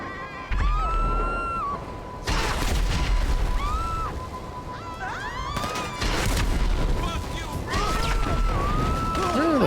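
Gunfire and explosive booms in GTA V during the Cayo Perico heist shootout, with loud repeated blasts and crashes over a dense, continuous game soundscape with tonal effects layered on top.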